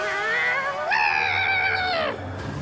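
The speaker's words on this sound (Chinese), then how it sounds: "快看，一只小猫！" A kitten gives one short meow, then a longer, louder, drawn-out meow that rises and falls, close by over a quiet background.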